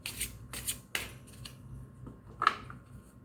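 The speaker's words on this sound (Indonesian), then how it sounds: "Aku akan tarik 3 kartu." Tarot cards being shuffled and drawn during a reading: soft, close riffles and flicks, a few sharp card snaps, and one louder slap near the end, with no talking.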